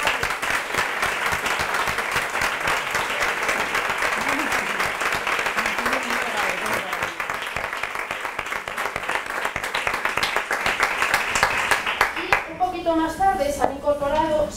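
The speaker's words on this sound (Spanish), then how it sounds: "Paco Loro, al que sí que os pido un aplauso ahora porque ha sido el artífice de todo esto" A large audience at an innovation conference presentation gives loud, sustained applause that fills the whole stretch, dense clapping running unbroken before a voice begins speaking over its fading end.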